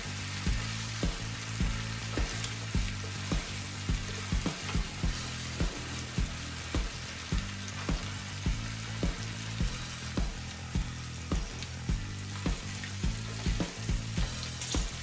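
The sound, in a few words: chicken, peas and garlic frying and being stirred in a pan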